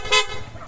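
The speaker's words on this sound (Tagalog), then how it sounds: "Tapos busina" A motorcycle horn on a scooter gives one short, loud toot over a low engine rumble, fading quickly into the background noise.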